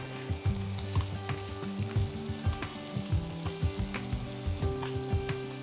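Leek sizzles gently in a hot pan while light tapping and shuffling sounds recur, with a steady tonal musical bed underneath.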